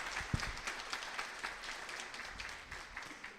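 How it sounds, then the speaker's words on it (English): An audience claps for the speakers at a river symposium session in a civic complex, a steady wash of many hands clapping throughout, fairly near and even, with no talk over it. "Let's give them a round of applause."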